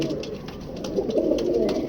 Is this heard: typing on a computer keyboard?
no